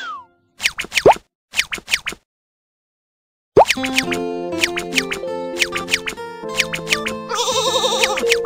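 Sheep bleating in a Baby Bus children's farm game: two short bleats, a pause of silence, then repeated bleats over a bouncy cartoon music loop with plopping effects, loud and close.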